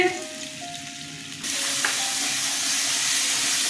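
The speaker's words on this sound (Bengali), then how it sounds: "মশলাটা কষানো হয়ে গেছে" Ash gourd pieces with turmeric and chili powder sizzle in mustard oil, a moderate frying hiss that jumps to a louder, fuller sizzle about halfway through and stays steady to the end.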